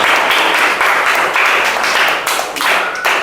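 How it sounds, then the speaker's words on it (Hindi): Children in a classroom clapping loudly together, a dense burst of hand claps that keeps going in waves for a few seconds, with no talking. "लेकिन सबसे पहले एक जोरदार ताली बजाना है।"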